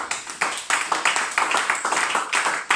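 A church congregation applauding during a worship service, sharp bursts of hand claps in a loose rhythm, fairly close and loud, with no talk over them.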